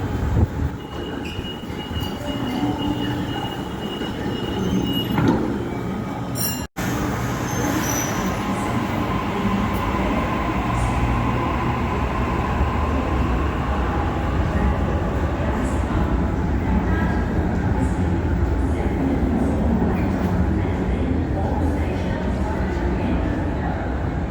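Inside a moving Sydney passenger train: a constant rumbling roar with wheel squeal and rattling, a brief dropout, and voices faintly heard over the noise.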